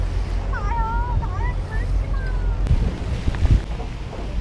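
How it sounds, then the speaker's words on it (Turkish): Heavy wind and rain outdoors near a shopping mall in Bangkok, a constant broadband roar with low rumbling gusts, joined early on by a few brief whistling tones. "Yağmurdan artık göz gözü görmez bir hal aldı şu an"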